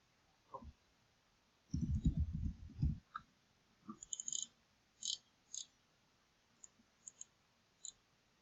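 A computer mouse clicks on a save button; sharp, quiet isolated clicks come one after another against near silence, with a brief soft rustle among them.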